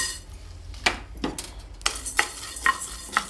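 Coriander seeds dry roast in a pan, rattling and scraping in short, sharp bursts as a spoon stirs them at an uneven rhythm.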